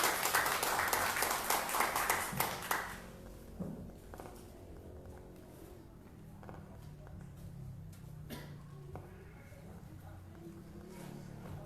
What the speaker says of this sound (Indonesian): Kita berikan dulu tepuk tangan.